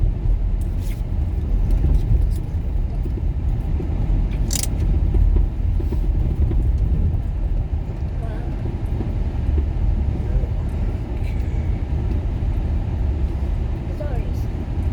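Steady low rumble of a car engine and tires while drifting around a snowy parking lot, continuous and fairly loud inside the vehicle, with people talking over it.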